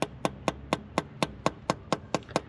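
A hammer taps steadily at a broken bolt in an engine, about eleven sharp metallic strikes in an even rhythm over a couple of seconds, close and loud with no talk.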